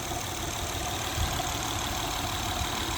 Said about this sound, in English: something so special about this beautiful V6 engine